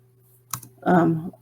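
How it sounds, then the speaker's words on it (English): Typing on a computer keyboard, heard as a short burst of clicks followed by a brief, louder clatter of keystrokes. "I'm just going to type CIAO Italia."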